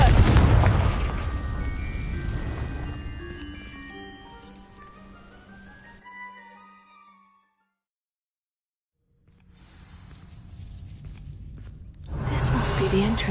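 A Confringo fire spell from Hogwarts Legacy bursts into dry vines with a loud, broad blast, then a ringing, shimmering tail fades into near silence before another rumbling surge builds at the end.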